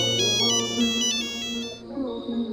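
A person vocally imitates a phone ringtone, producing a repeating, melodic, electronic-style chime pattern that holds steady for under two seconds before changing tone, loud and close with no other talk.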